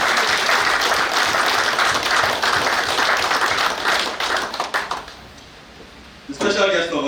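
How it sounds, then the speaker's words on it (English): Audience applause at a naval warfare course graduation ceremony at a naval war college in Nigeria: dense, loud clapping from a large crowd that thins out and fades, then a brief burst of sound at the end. "May we give the special guest of honor a round of applause"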